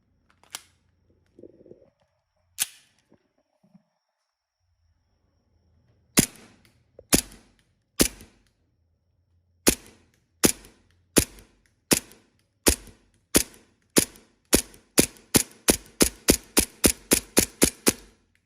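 A modified WE Hi-Capa 5.1 airsoft pistol fitted with a silencer adapter fires at 40 metres, sharp snappy cracks starting as single spaced shots and speeding into a rapid string of shots, close with no talk.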